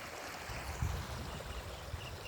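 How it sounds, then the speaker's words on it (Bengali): Rainwater floodwater surging down a village road after a short, heavy downpour, a steady broadband rush like a flowing river, with a few low thumps and no voices. "দেখেন পুরা নদীর মতো পানি আসতেছে"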